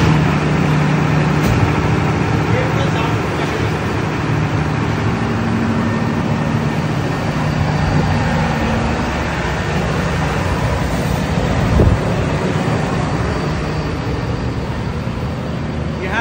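A Cummins 100 kVA soundproof diesel generator set runs with a loud, steady, unbroken engine drone that keeps the same level throughout.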